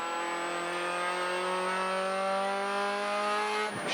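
A TT6-class NB Mazda Miata race car at Ozarks International Raceway accelerates hard on track, its engine note rising steadily and loud from close up for several seconds before a sudden drop at a gear shift.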